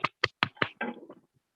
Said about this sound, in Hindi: लगता है तो बजाइए ताली